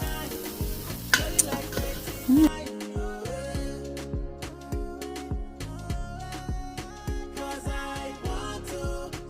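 Vegetables with onions, garlic and celery being sautéed in a pan, with stirring clatter of utensil against cookware and light sizzling, a steady run of scraping strokes at moderate loudness.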